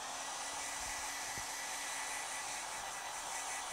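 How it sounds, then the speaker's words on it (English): A hair dryer blows on a freshly painted ornament, a steady, loud whooshing hiss with a faint motor whine that runs unbroken from start to finish, with no talk. "And then I will hit it with a hair dryer."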